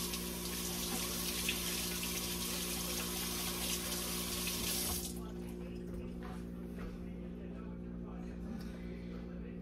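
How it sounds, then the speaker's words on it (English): Tap water runs into a sink as hands are rinsed, a steady close splashing hiss that cuts off abruptly about halfway, leaving a low electrical hum and faint room noise. "I'm gonna rinse my hands real quick."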